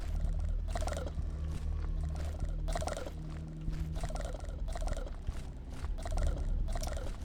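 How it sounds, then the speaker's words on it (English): Skeletons walking over stone floors in the game Aeon of Sands, a series of soft, evenly spaced scraping steps with faint bony clatter, set against a low ambient drone. "Can hear their footsteps on the stones as well here."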